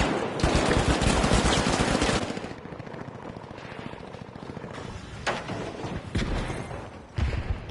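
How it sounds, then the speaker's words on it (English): Shotgun hip fire in The Finals, a video game, with a rapid cluster of loud blasts over the first two seconds, then a quieter stretch broken by a few single sharp shots. "I don't know how to hip fire with this shotgun too well."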